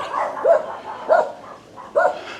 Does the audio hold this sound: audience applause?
no